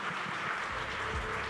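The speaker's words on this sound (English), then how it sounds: "Once again, ladies and gentlemen, a bigger round of applause" Audience applause after an award acceptance at the IAA Business Leader of the Year ceremony: a steady, dense wash of clapping from a large crowd, sustained and even for the whole moment.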